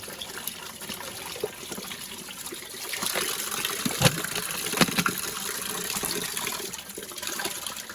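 Water runs steadily from a public tap in a park in Uman, Ukraine, in a continuous splashing gush, with faint outdoor background noise and occasional louder splashes.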